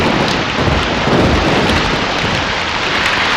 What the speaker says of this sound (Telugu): వర్షం వచ్చేటట్టుంది సోదాపు ఇంటికి వెళ్ళండి